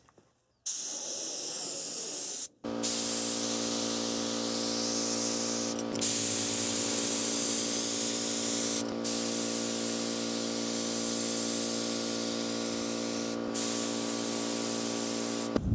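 A can of Rust-Oleum Gloss White spray paint lays a touch-up coat on a vintage Shasta camper trailer during restoration, a close, steady hiss running for long stretches with a few brief breaks between passes.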